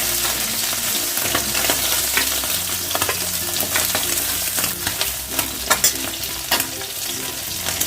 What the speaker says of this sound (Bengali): বেশি কড়া করে আমি ভাজলাম না কেন শক্ত হয়ে গেলে মাছগুলো খেতে টেস্ট লাগে না